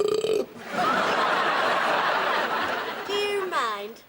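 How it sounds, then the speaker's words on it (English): A big, drawn-out beer belch rumbles loudly for over two seconds before a voice chuckles and makes sounds close by. "Oh, I love a good burp, me. Really good, chewy one. Big, solid, beer-flavoured belch."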